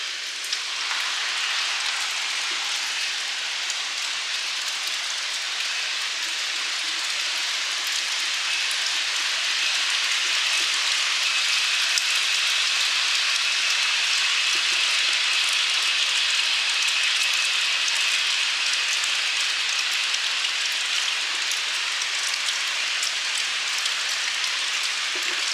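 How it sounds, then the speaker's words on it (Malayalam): Heavy rain falls outside a home, heard indoors as a steady, even hiss of drops on surfaces that holds constant and fairly loud throughout, with no talk over it. "അപ്പോൾ ഈ സമയം പുറത്ത് നല്ല മഴയാണ് കേട്ടോ"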